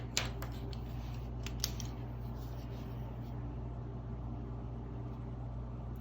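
A Parkoo quick-dry gel pen clicks twice near the start, sharp and close, then a steady low hum carries on.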